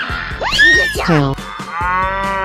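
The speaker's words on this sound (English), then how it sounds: "cow," A cow moos in a 3D animal slide video game: a loud, drawn-out cartoonish moo with swooping pitch, repeated in quick succession over bouncy, rhythmic game music.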